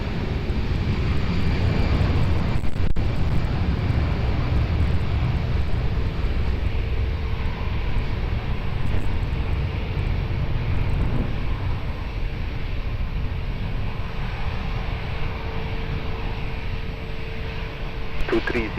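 An airliner approaches runway 20 at Lisbon Airport, its engine drone steady and fairly distant throughout, with a faint tower radio voice in the background.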